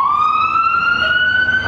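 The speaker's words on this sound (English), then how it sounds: "the refreshing sound of sirens" An emergency vehicle siren wails on a city street in Victoria, a loud, steady rising tone that fills the whole moment, close and unbroken.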